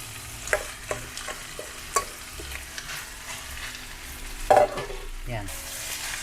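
Steamed rice being stir-fried for Chinese fried rice, with a soft steady sizzle under scattered scraping and clinking of a spatula against the pan.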